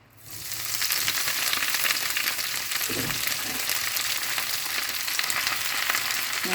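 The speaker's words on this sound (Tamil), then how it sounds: "சட்டியில் எண்ணெய் சூடாயிடுச்சு. எல்லாத்தையும் போட்டுக்கலாம்." Green chillies sautéing in hot oil in a pan, a steady loud sizzle that starts abruptly and holds throughout, with a brief stir or clatter midway.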